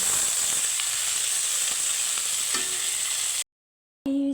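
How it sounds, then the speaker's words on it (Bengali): Egg sizzles and crackles in hot oil in a pan while being stirred, steady and close for about three seconds with a light scrape, then it cuts to silence before a brief different sound. "ডিমটাকে আমি নাড়িয়ে চাড়িয়ে ভেজে নেব সামান্য কালা চলে আসা অবধি আমি ভেজে নেব"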